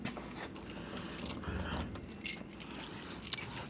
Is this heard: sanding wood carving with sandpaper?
no